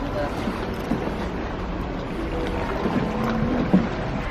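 Continuous engine drone and water rush from a boat crossing to Boracay in the Philippines, heard from the front beside the captain, with steady wind and wave noise throughout.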